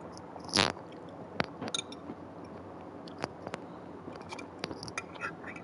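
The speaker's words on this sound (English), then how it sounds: "The cat's fucking munching and crunching over there." A cat munching and crunching its food nearby, faint irregular crunchy bites and chewing clicks with one louder scraping crunch early on, set against a quiet room.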